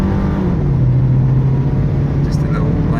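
A turbocharged car accelerates on a warm Sarasota, Florida road, its engine note rising steadily under a loud cabin rumble, with someone talking over it.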